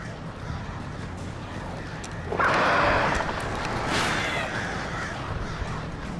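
Crows caw in Alan Wake Remastered, at night near a sanitarium garden, with a loud harsh burst of cawing over steady game ambience and a second smaller swell after it.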